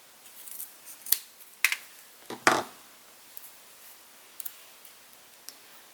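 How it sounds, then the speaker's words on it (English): Scissors cut paper into strips for a tombstone shaker embellishment craft, producing several sharp, close snips spaced unevenly apart, with quiet clicks between them. "I'm just going to cut these up into strips"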